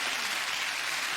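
A brief burst of studio audience applause on a British chat show, a smooth, even hiss of many hands clapping at moderate loudness.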